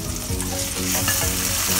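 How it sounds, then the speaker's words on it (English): Ground pork sizzles steadily as it fries in butter for Japanese korokke croquettes, a dense, even crackle that carries on loud and close with no voices. "let's just dish this up and we'll fry the ground pork. Same thing, add some butter in."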